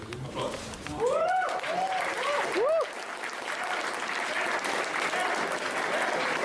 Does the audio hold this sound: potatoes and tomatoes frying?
no